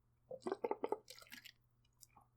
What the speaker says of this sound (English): My water bottle made a hella weird noise.